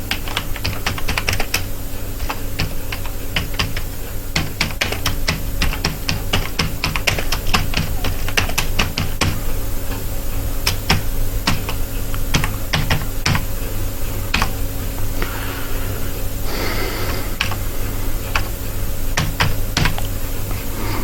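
Steady computer keyboard typing, a fast run of key clicks while entering a narration in Tally ERP 9 accounting software, close and continuous with no talk.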